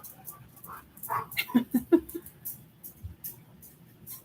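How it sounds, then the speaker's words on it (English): A dog whimpers and gives several short barks and yips in quick succession, fairly close, agitated at being kept from a child, with soft background noise and no talk. "this dog is beside himself because he can't get at my daughter"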